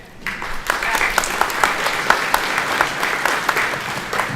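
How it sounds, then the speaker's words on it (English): Sustained applause from an audience at a Wiscasset school ceremony honoring students, a steady patter of many hands with sharp individual claps standing out, filling the room for several seconds without a break. "we'll do a round of applause"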